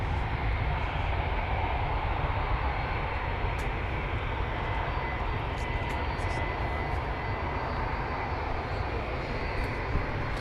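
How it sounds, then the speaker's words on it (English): Aircraft taxiing along the taxiways at Manchester Airport before takeoff from runway 24 left, a constant heavy engine roar and rumble heard from some distance, steady and unbroken. "there's plenty of other aircraft going along the taxiways ready for taking off on runway 24 left"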